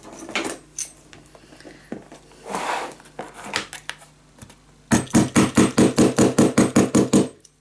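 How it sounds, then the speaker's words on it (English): Rapid series of about a dozen sharp hammer blows on scrapbook board for a Christmas mini album, loud and evenly spaced, following scattered quieter knocks and handling sounds. "Alright, where is my hammer?"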